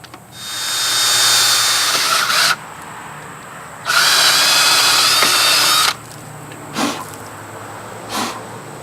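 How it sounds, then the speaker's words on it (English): A power drill whirs loudly in two sustained bursts separated by a pause, drilling out a pin on a Kuhn hay tedder under repair, followed by a couple of short scraping knocks. "so I think what I'm gonna try to do is drill"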